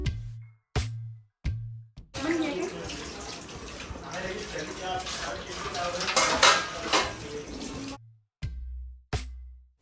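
Dishes, pots and pans clatter and scrape under running water from 2 to 8 seconds during kitchen washing-up, with short bursts of talk before and after.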